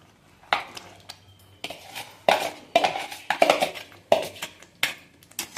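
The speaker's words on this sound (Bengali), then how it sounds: "এবার আমি এর মধ্যে ম্যারিনেট করা মাছগুলো দিয়ে দেবো" Marinated fish pieces are added one after another to a pan of bubbling spices for fish chaap, bringing a run of close, irregular clanks and brief sizzling bursts from the pan and utensil, with no talking.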